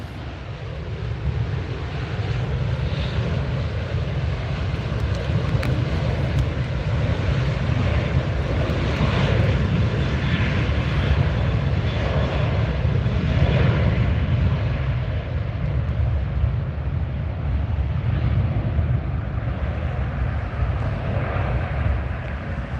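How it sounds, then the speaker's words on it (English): An Airbus A380 airliner arriving at LAX makes a steady, loud engine roar that holds for the whole stretch, with wind buffeting the microphone. "I got an A380 in my sights here. Coming in for a north side arrival."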